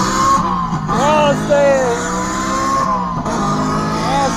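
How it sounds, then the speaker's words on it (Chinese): A Bluetooth speaker fitted to an electric scooter plays a loud, sustained simulated motorcycle engine roar with rising and falling revs, heard close up with people talking and exclaiming over it. "它也可以模仿摩托车的声浪"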